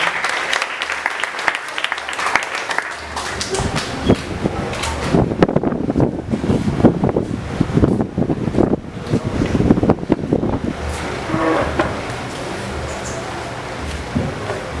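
Congregation applauding in praise at an evening church gathering, a dense sustained wash of clapping that swells and holds for many seconds, mixed with crowd noise and some wind-like rumble.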